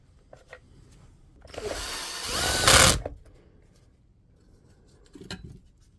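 Screws being driven back into a DeWalt DCN660 nailer during reassembly: one loud whirring burst of about a second and a half, with faint clicks and handling before and after.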